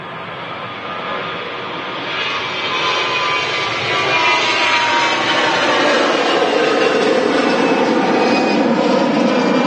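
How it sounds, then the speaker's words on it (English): An EasyJet jet airliner departs Manchester Airport on a flight to Tenerife, its engines roaring loud and steady as it rolls, swelling gradually in a continuous broadband rush with no talk over it. "And the EasyJet lined up next to depart."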